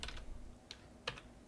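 A web address is typed on a computer keyboard: a few soft, sparse key clicks, faint and close, with short pauses between them and no voices.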